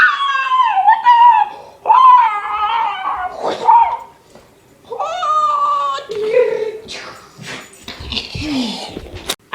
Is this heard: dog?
yes